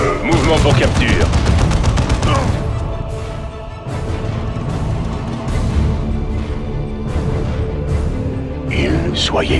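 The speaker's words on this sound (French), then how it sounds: "On subit des tirs!" Heavy gunfire crackles through a battle in the strategy game Warhammer 40000 Dawn of War II Chaos Rising, loud overlapping bursts and rapid volleys with booms, mixed with game voice chatter.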